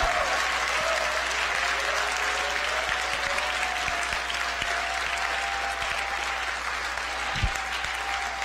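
A room full of libertarians and Republicans applauds steadily, a dense even wash of clapping from the audience that holds for the whole stretch, with a faint tone running beneath it.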